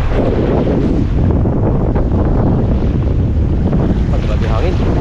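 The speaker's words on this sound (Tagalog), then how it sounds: "Grabe hangin." Strong wind buffets the microphone steadily out at sea on a fishing trip, with a constant loud rush and roar over the sound of water and the boat.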